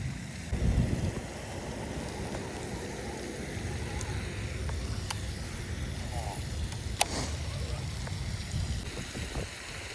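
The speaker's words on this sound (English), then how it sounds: "The wind has definitely picked up since I've been out here this morning." Wind gusting over a lake during a fishing outing, a steady low rumbling buffet close to the microphone with a louder gust at the start and a few faint clicks and knocks.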